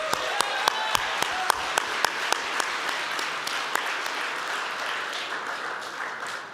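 An audience claps for Layla and Mihrin at the 14th Annual Dream Big event, a dense round of applause with a few crisp individual claps on top that slowly thins out toward the end.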